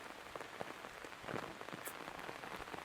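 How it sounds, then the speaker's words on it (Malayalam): Rain just beginning to fall in a misty village setting in Kerala, a steady, close patter of drops with occasional louder splashes and no voices. "മഴ പെയ്ത് തുടങ്ങിയതേ ഉള്ളൂ."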